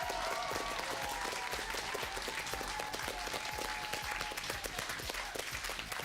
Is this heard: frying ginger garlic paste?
no